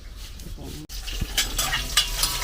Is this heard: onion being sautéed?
yes